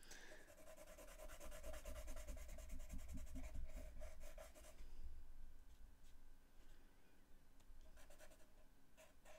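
A coloured pencil scratches and rubs across paper while shading in a drawing, with a continuous dry scribbling texture that is louder and denser at first, then turns lighter and more intermittent.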